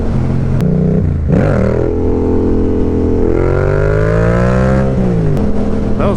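A Yamaha FZ-07 motorcycle accelerates hard in fourth gear while lifting into a wheelie; its loud, close engine note climbs and holds in a rising whine, then drops back as the throttle eases.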